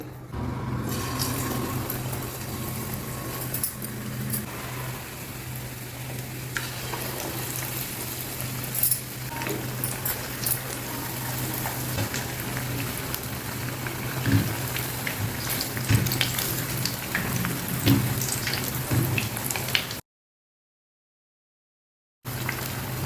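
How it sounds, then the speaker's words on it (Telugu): Battered eggplant bajji frying in hot oil gives a steady, soft sizzle and crackle over about twenty seconds, with scattered pops, before a brief silent gap and a return of the same hiss. "ఈ వంకాయని ఇలా ఇందులో ముంచండి ముంచి ఈ నూనెలో వేసేసుకోవటమే"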